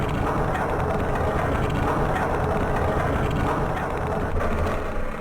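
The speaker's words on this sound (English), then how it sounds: "Very important to keep your characters clear of the tracks, because those trains will just insta-kill you." In the PS2 game Half-Life: Decay, a train rumbles past on the tracks, a loud, steady mechanical roar with rattling undertones that holds evenly before easing slightly at the end.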